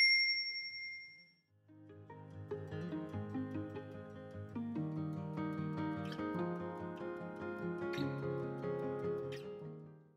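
A short bright notification bell ding rings alone at the start, then fades out and gives way to gentle tuned background music that plays on to the end.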